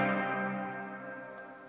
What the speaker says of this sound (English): you get a little bit of shimmering chorus on the reverb tail